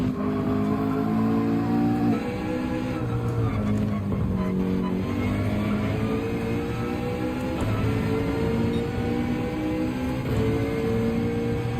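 A McLaren race car engine in Gran Turismo 7, droning steadily at high revs for the whole stretch with gear-change dips and pitch swings, loud and continuous with no talking over it.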